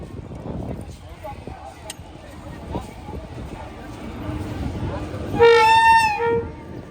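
A train at Madhubani railway station, with crowd murmur and voices throughout, then a loud, close horn blast that holds for about a second near the end.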